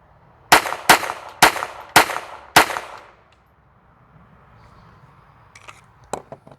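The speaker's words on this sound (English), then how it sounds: "5 rounds of the CCI standard in the little Walther PPQ" Five sharp .22LR CCI standard rounds fired from a Walther PPQ pistol at an outdoor target range, evenly spaced loud cracks over about two seconds, followed by quiet and a few faint clicks.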